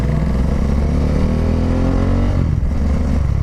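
Motorcycle riding steadily along a farm road between rice paddies, its engine droning loud and close with a continuous mid-pitched hum that dips briefly near the end before resuming.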